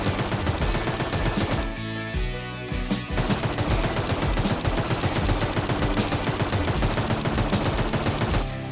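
A Tommy gun tower in the Roblox game Tower Defense Simulator fires in sustained rapid automatic bursts, loud and dense throughout, with a brief dip partway through.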